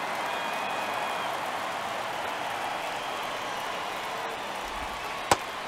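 A baseball video game crowd in MLB The Show 23 keeps up a constant, broad roar in a ninth-inning one-run game, with a single sharp knock near the end.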